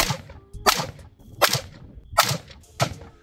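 An AR-15 rifle fitted with a Suger Weasel fires four evenly spaced, sharp gunshots on a shooting stage, each a loud crack with a short tail and no talking between them.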